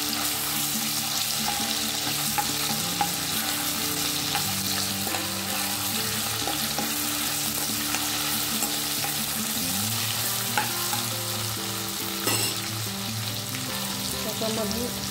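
Ginger-garlic paste and spices sautéing in hot oil for a vegetable bhaji, a loud, close, continuous sizzle and crackle with occasional stirring scrapes, sustained for about fifteen seconds without speech.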